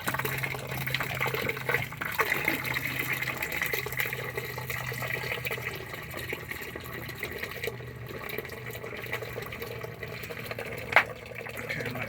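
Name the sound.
water splashing from RV gray tank drain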